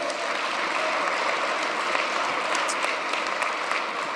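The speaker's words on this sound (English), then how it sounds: "let's give them a round of applause" Applause at an inauguration ceremony for students who performed, a dense, even roar of many hands clapping from start to finish with a few louder claps popping out.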